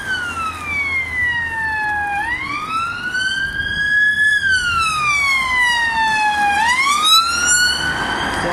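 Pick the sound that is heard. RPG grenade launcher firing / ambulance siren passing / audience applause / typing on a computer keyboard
ambulance siren passing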